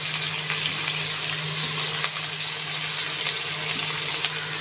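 Potatoes and onions frying together in hot oil for a fish-roe curry, a loud, continuous sizzle close to the pan with faint stirring scrapes and no talk.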